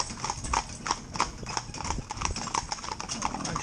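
Young, green ponies driven as a mixed four-in-hand team, their hooves clip-clopping in a steady, even rhythm at moderate distance, with faint background noise and no clear voices.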